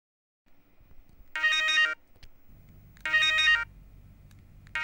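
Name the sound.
telephone ringing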